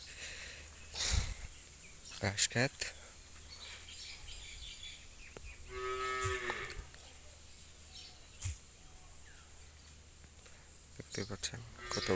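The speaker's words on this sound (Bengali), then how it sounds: "এখানে রয়েছে অনেক অনেক অনেক গরু" Cattle on a farm let out a single drawn-out moo midway, set among scattered chirping birds and other short outdoor noises at moderate distance.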